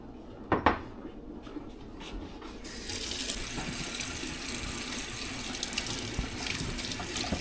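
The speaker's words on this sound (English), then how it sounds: "right now all I'm doing is washing the excess off of these, any kind of dirt or little bugs that might be on them" Grapes are washed under a running kitchen sink tap. A couple of sharp clinks come first, then the water turns on at full flow and gushes steadily and close for the rest of the clip, with no talking.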